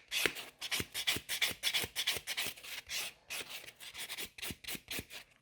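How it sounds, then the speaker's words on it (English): Gel nails being buffed with a nail buffer, a quick run of short rasping rubbing strokes, close and steady, with no talking. "Just buff it so they're nice and smooth."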